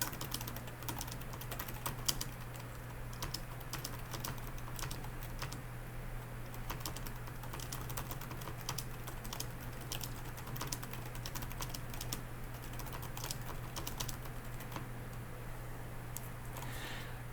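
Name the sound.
typing on keyboard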